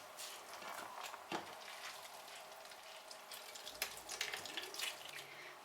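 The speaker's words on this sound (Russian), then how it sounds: "Вон сколько сока с нее вытекает." Juice from grated pumpkin trickles and drips into a bowl as it is squeezed by hand in a kitchen, a soft wet splashing and patter that comes and goes close by.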